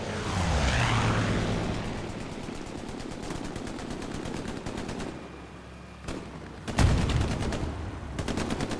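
A WWII video game battle at Omaha Beach, with sustained machine-gun fire from an aircraft strafing run rattling steadily at moderate volume, followed by a few sharp, louder shots near the end.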